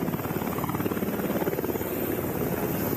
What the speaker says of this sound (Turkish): Şu anda bir helikopter iniş yapıyor alana.